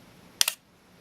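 A single quick double-clack from an Olympus XA4 35mm film camera shutter firing during a long exposure, crisp and close, isolated against near silence.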